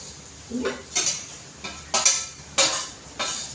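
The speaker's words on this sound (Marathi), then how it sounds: "तर मी याच्यामध्ये मिक्स करते" A utensil mixes masala into okra frying in a pan, producing several rhythmic metallic scrapes and clanks in regular strokes over a faint background sizzle, close and clear.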